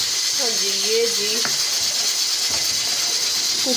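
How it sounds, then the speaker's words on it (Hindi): Pressure cooker hissing steadily with a broad, loud steam rush while tomato chutney cooks, a short whistle-like tone rising early on and a few clicks and knocks over the constant noise. "कुकर का बहुत शोर हो रहा है"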